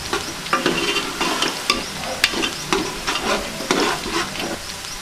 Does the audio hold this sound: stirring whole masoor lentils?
yes